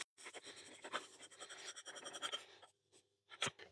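A Daystate Pulsar air rifle's cylinder being unscrewed, stiff against internal O-rings, gives close, scratchy scraping and grinding for a few seconds, then a pause and one short final rasp.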